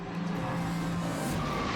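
A race car skids and slides loudly with tire squeal and engine roar during a crash into a wall, a continuous dense noise over under two seconds with no talk.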